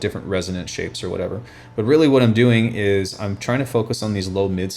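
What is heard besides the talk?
No everyday noise stands out behind the speech.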